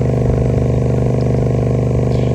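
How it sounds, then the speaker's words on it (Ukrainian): Motorised sprayer engine running steadily at half revs, a loud, continuous close-up drone with an even low throb and no pauses. "Пульвізатор працює на половину оборотах і подає сюди живлення."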